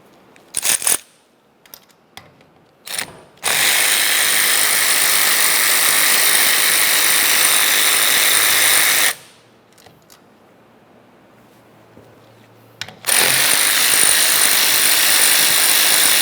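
A power tool runs in two long bursts, about five seconds each with a pause between, removing three T30 Torx screws from a steering column bracket on a 2001–2005 Ford Explorer Sport Trac, with a few clicks and taps before it starts.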